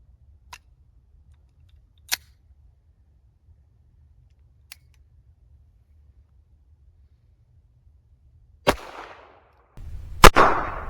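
A flare gun is fired while hunting: a few sharp clicks from handling the gun, then a loud crack followed by a second blast that trails off in a short roar, over a quiet outdoor background.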